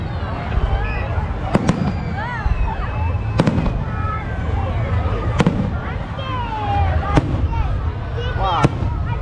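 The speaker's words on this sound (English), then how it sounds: "Fireworks sorry." Christmas fireworks explode repeatedly nearby, sharp loud bangs every couple of seconds among crackling and whistling bursts, with people talking excitedly throughout.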